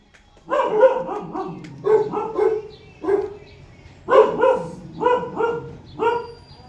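A dog barks repeatedly in short bursts, close and loud, with brief pauses between groups of barks.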